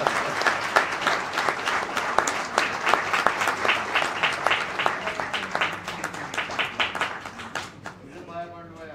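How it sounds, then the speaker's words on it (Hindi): An audience applauds an award presentation at a music celebration honoring Acharya Jialal Vasant Ji's legacy, with sustained, fairly close clapping that thins out and fades near the end. "तालियों के साथ।"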